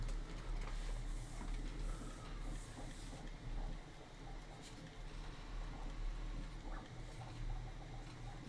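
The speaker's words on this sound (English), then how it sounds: "It's a great little printer." A 3D printer runs at low volume, giving a continuous mechanical whir with a steady low hum and faint intermittent ticks and patters from its moving parts, with no talk over it.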